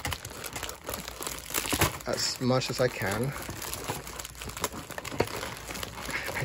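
Continuous crinkling and rustling of Yu-Gi-Oh! foil booster packs being shuffled close to the microphone, with a person speaking briefly over it.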